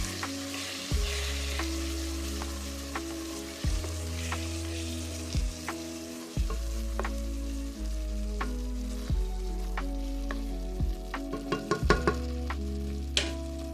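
Tomato sauce and petite diced tomatoes are stirred into a pot of stuffed pepper soup, with repeated wet scraping strokes and clinks of the spoon against the pot, close up.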